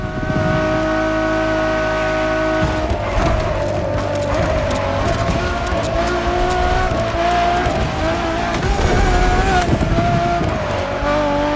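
A Ferrari Enzo supercar roars through The Crew Motorfest, its engine loud and sustained with shifting revs, tire squeal and skidding mixed in, dense and close throughout.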